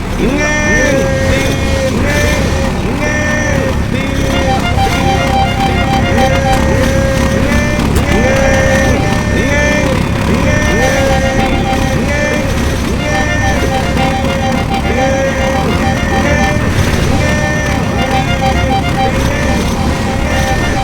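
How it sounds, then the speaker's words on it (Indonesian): A motorbike engine in the Garry's Mod video game revs in loud, repeating bursts that rise and fall in pitch, while a voice talks continuously over it. "Inilah motor yang biasa digunakan oleh tung-tung sahur."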